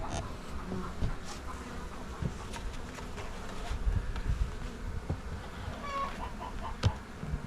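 Honeybees buzz steadily around open hives during a hive inspection, a close continuous hum with individual bees passing near, and no talking.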